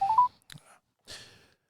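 Phone dialing tones on a handset placing a call, a few short beeps at the start followed by a soft tap and a brief electronic burst, heard close and fairly quiet.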